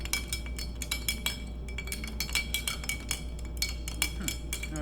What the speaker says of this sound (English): We're like banging around on this glass. I'm going to stir it really thoroughly.